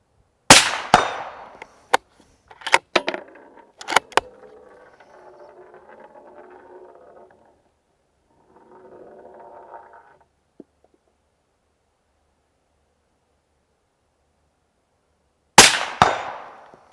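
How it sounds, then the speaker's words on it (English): Rifle shots fired at a target disc from a rifle fitted with a thermal clip-on scope: two sharp, loud cracks stand out near the start and another at the end, with faint clicks and handling noise between. "So this is 2 shots on the right hand disc with the clip on."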